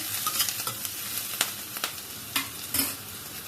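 Cut vegetables and capsicum sauté in a pan on a gas flame, a soft continuous sizzle broken by several sharp scraping stirs, close up and moderately quiet with no talking.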